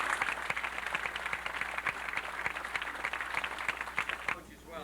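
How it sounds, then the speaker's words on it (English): Applause at a 1993 Summit, New Jersey high school football banquet: steady, dense clapping from a room full of guests that carries on for several seconds before thinning out at the end. "How about a round of applause?"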